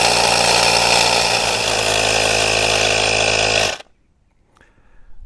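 A compressor or pump runs loudly and steadily, a dense mechanical drone for almost four seconds inflating a lawnmower's tubeless tire, then cuts off abruptly into near silence with a faint tail of small noises.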